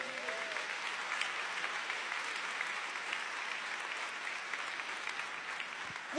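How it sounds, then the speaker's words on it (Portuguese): Church congregation breaks into sustained applause, a dense, even wash of many hands clapping for about six seconds, loud and steady without voices above it. "Você pode aplaudir o Senhor?"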